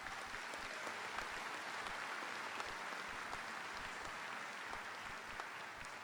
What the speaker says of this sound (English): I'd like to give them a thunderous round of applause as well.